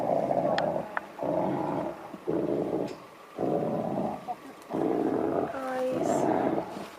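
Deep, rumbling growls come in repeated bursts separated by brief pauses, close and menacing, with a faint higher cry near the end.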